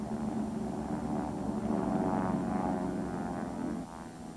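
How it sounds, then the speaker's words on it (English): A steady, droning engine hum, like WWII bomber aircraft approaching, holds at moderate level throughout with no voices, easing slightly near the end. "All was quiet except for the drone of approaching bombers."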